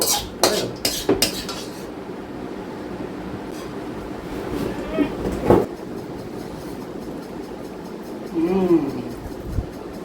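Chicken curry is served into a dish as metal utensils clatter and scrape against pots in a few sharp bursts, with voices talking over parts of it.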